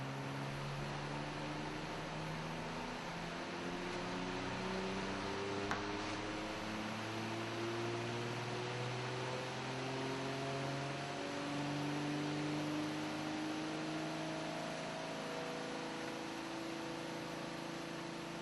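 Household twin-tub washing machine spin-drying a fur garment, giving a steady motor hum and whir that shifts slightly in pitch as it runs continuously, moderately loud with no talk.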